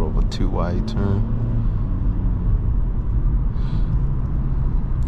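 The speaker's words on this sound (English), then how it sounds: "the road noise isn't really noisy" Steady low road rumble fills the cabin of a 2023 Kia Forte LXS while it is being driven, with a voice heard briefly at the start.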